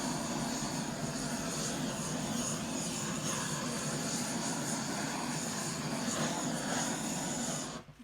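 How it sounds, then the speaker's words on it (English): A torch roars with a steady, close, broadband hiss as it heats a colored epoxy resin pour. It runs continuously for about eight seconds, then cuts off at the end. "What I'm going to do is use the torch now."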